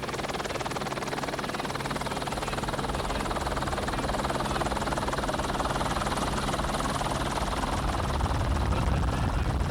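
A police helicopter drones overhead with a steady, loud rotor chop that continues unbroken throughout.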